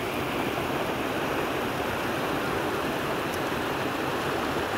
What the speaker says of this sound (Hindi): ये गंगा जी का धारा है